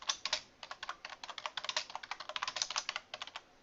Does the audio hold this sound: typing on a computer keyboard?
yes